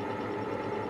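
A lathe turns the neck of a brass cartridge case, cutting against the shoulder, giving a steady, close machining whir with a continuous even tone and no breaks.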